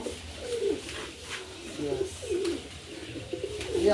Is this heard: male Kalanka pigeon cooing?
yes